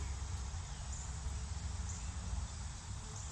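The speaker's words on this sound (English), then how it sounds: "there's a lot of bees in here." Bees buzzing around plants in a summer garden, a steady dense drone close by with a constant hum and no breaks, no voices over it.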